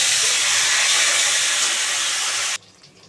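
Chopped tomatoes hit hot oil already spiced with cinnamon, cumin and bay leaf, producing a loud, dense hiss of sizzling that runs steadily for a few seconds and then cuts off abruptly.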